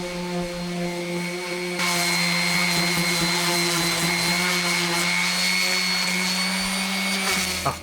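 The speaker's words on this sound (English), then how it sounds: "So that wants a bit of sanding on the edges." A steady, loud power tool sanding the edges of paving slabs whirs continuously after a brief quieter start, a constant high hum with abrasive grinding throughout, no voices.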